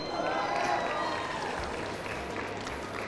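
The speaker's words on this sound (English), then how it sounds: "Round of applause one more time for these competitors." Audience applause and crowd noise at an esports fighting-game tournament keep up a steady roar, with a voice faintly in the mix.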